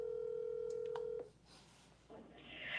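Telephone call tones on an unanswered call: a steady tone holds for about a second, then a few quick dialing beeps follow, all quiet and alone.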